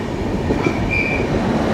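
The Mumbai CSMT–Madgaon Jan Shatabdi Express, hauled by Kalyan locomotive 37052, rumbles past loudly and close, a continuous roar of wheels on rails with a faint squealing tone over it.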